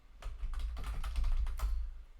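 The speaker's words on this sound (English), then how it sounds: "I can compile this file by typing G++" Quick bursts of typing on a computer keyboard enter a compile command, clustered clicks close to the microphone with brief gaps between them.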